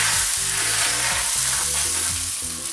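Thin beaten egg omelette fries in a pan for egg garnish, a steady close sizzle with a bright crackling hiss and soft low tonal hum underneath, holding level throughout with no talking.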